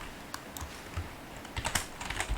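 A computer keyboard being pressed for a Ctrl+D shortcut gives a few soft, close clicks of typing in a quiet room, with no voices.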